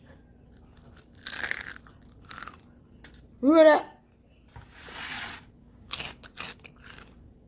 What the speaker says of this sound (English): let me let you hear how crunchy this skin is